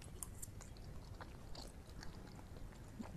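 Close, quiet bites and crunchy chewing of sweet potato toast topped with avocado, repeating in an uneven rhythm with no talking.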